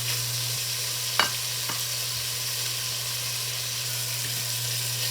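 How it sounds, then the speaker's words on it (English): Beef pieces searing in a hot pan of fat, a steady close sizzle with a couple of sharp scraping or stirring clicks near the start, no voices. "Just keep searing the pieces until you get it all done."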